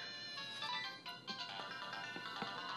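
A phone's text message alert chimes as a bright, melodic ringtone, heard alone and fairly loud for nearly three seconds during a Pokemon Platinum playthrough.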